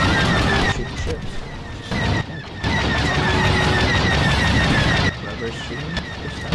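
Starship gunfire in the video game Star Wars Battlefront 2 makes a dense, loud and continuous blaster barrage with engine roar. It runs steadily across the clip and briefly cuts out twice, and voices talk over it.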